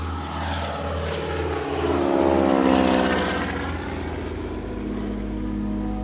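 Float plane propeller engine droning steadily at close range, a loud continuous roar that swells slightly midway and then settles, no voices.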